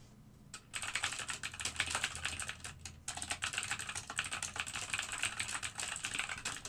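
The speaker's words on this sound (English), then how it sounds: "I'm just doing a bunch of angry typing to someone" Angry typing on a computer keyboard: rapid, dense clatter of keystrokes that starts after a brief quiet moment and continues steadily, close and fairly loud, with a short pause midway and no talking.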